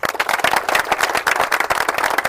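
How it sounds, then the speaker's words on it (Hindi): Audience applause at an International Yoga Day 2025 gathering, a short burst of dense, fairly close clapping from a crowd, steady in level throughout. "जोरदार तालियाँ अपने लिए।"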